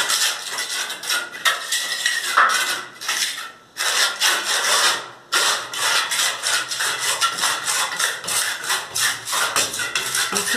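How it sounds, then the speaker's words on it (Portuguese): A steel trowel scrapes and rubs steadily across burnished cement on a wall, a continuous gritty rasp with brief pauses between strokes, close and loud with no talking. "Quando passa a colher, se diz, está queimando o cimento"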